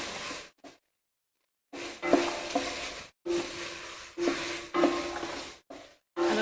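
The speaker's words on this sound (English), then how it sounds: "it's starting to sizzle now" Tomato paste, a heaped tablespoon, sizzles in a hot pan during a vegetarian cooking demonstration, heard as close bursts of frying hiss broken by scraping stirs and brief silent gaps.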